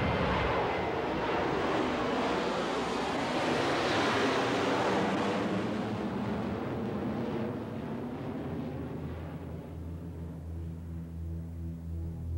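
A passenger airliner's engines roar during the takeoff roll on the runway, a loud sustained broadband rumble that peaks and then slowly eases, heard from inside the cabin with no talking.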